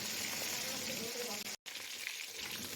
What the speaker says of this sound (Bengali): আমি সবকটা মাছকে লাল লাল করে ভেজে নেব